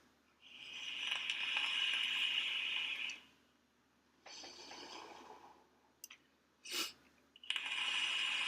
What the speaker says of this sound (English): So unlock my Carvela because I always lock it.